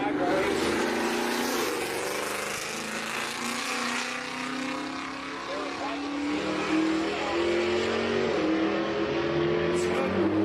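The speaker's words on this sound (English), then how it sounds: "have a Camaro in the right lane. Porsche 991 Turbo S in the left." A Chevrolet Camaro and a Porsche 991 Turbo S drag racing give a loud, continuous engine roar with rising revving pitch, heard across an open racing venue with a voice over the top.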